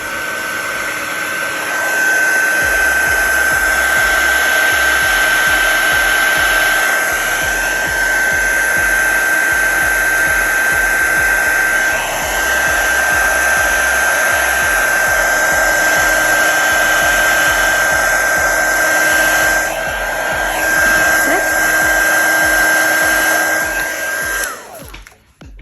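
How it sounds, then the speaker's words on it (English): A heat tool for card making blows a steady, loud whooshing hiss with a faint whine, setting embossing powder on a new baby card; it runs continuously for about twenty-two seconds before cutting off. "I'm just heating up my heat tool so I can set that powder"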